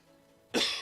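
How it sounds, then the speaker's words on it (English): A single harsh cough bursts out close and loud after a quiet moment, from someone playing Magic: The Gathering Arena. "Again, sorry for the cough"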